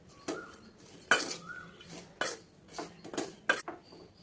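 Moong dal pakoda ingredients being mixed in a bowl, several distinct clinks and scrapes of a spoon against the dish at irregular intervals, quiet and close, with no voices.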